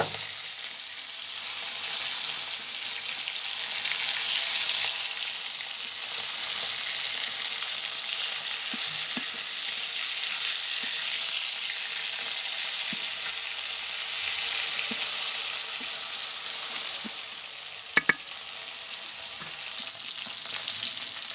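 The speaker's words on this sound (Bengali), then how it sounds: "এই যে আমার মাছগুলো ভাজা হয়ে গেছে এখন আমি নামিয়ে নিচ্ছি" Fish pieces frying in hot oil in a pan for a home-cooked fish curry: a steady, close sizzle holds throughout, with a few scattered clicks and one sharp utensil knock near the end, no talking.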